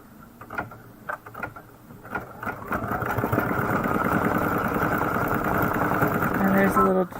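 An embroidery sewing machine stitches out a design on a quilted pillow wall hanging, starting with a few scattered knocks and clicks before settling into a steady, continuous mechanical whir near the microphone.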